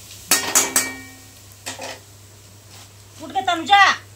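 A few sharp metallic clinks and clatters of dishes close by, then a pause and a voice talking briefly.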